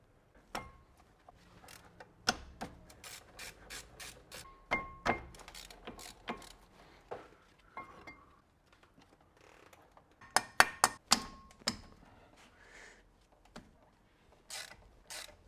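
Small metallic clicks and ratcheting taps from tools loosening the brake caliper bleed screw and hose on a BMW E61 525d straight-six, scattered and close, with quiet gaps between bursts and no talk.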